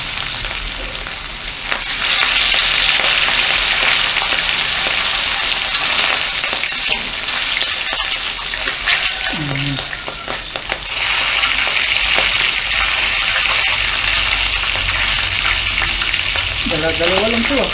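Loud steady sizzling of milkfish frying in smoking-hot oil in a pan, with occasional scraping and stirring sounds, no voices.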